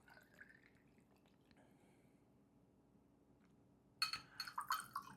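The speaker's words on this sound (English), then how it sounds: "we're going to go ahead and do 2 ounces of this 2025 Heritage Barrel Jack Daniel's" Two ounces of 2025 Heritage Barrel Jack Daniel's whiskey poured into a glass already holding soda, a short burst of splashing liquid arriving near the end after a quiet stretch.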